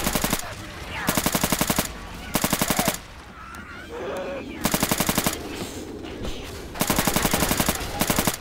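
Bursts of automatic gunfire from Left 4 Dead 2 in The Parish campaign on Realism, loud rapid volleys repeating in several separate stretches with short quieter gaps of game noise between them.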